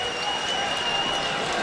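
Sellout crowd at a college basketball game applauding as a player checks back in, a dense steady roar of clapping with an announcer talking over it.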